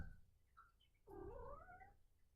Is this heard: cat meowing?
yes